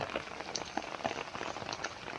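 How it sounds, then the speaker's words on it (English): Rain falls outdoors in Rome as a soft, steady patter of scattered drops on surfaces, faint and even throughout, with no voices. "It's raining."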